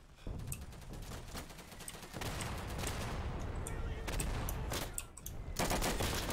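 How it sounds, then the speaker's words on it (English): Gunfire in the World War II shooter Day of Infamy: several bursts of rapid automatic fire and sharp single shots, loud and close, coming in clusters separated by brief gaps, with no voices over them. "I could hear the gunshot"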